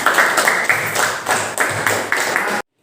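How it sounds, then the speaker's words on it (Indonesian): A classroom of children clap for a classmate named Putri, a short burst of brisk, loosely rhythmic hand claps in a room, fairly close, cutting off abruptly. "silakan tepuk tangan dulu untuk Putri"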